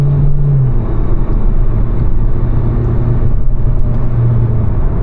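Opel Insignia 1.6 CDTI diesel at full throttle, heard from inside as a steady loud engine drone and low road rumble with a brief rising pitch as the wheels spin under torque.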